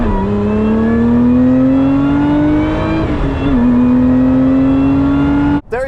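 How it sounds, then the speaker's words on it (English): A Lotus Emira's 3.5 litre supercharged V6 revving hard and close, a loud rising engine note that climbs, dips briefly at a shift, then pulls again before stopping abruptly. "There is nothing like a supercharged engine"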